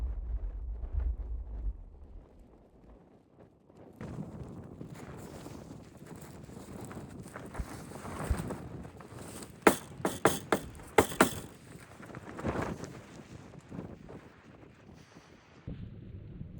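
Strong gusting wind buffets the microphone beside an exposed mountain lake in wet Welsh weather, with a low rumble at first, then broadband roaring gusts and a few sharp knocks near the middle.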